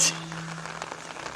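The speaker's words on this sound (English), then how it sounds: "hope this rain subsides so I can put the tent back in the car" Rain falling at a wet campsite, a steady soft hiss of drops on surfaces, close and even throughout the brief moment.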